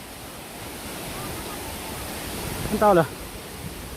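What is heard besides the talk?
waterfall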